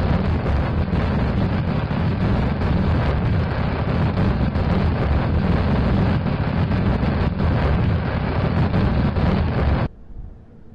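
Rocket engines firing in Kerbal Space Program, a loud continuous broadband roar holding steady for about ten seconds before cutting off abruptly, with no talk over it.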